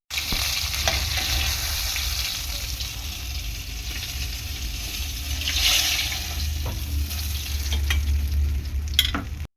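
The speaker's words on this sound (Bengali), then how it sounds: "কয়েকটা মাছ রয়েছে, এই 4 পিস মাছ ভেজে নেব।" River fish pieces frying in oil in a nonstick wok, a steady loud sizzle and crackle running throughout with occasional sharper pops and stirring scrapes, no voices.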